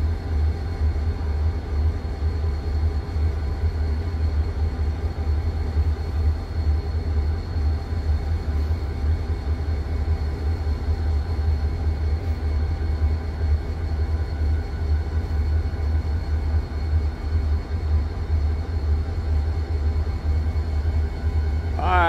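Steady low rumble of a Wheeling & Lake Erie train in Ohio, continuous and fairly loud throughout, with no distinct passing swell and only faint hints of a voice.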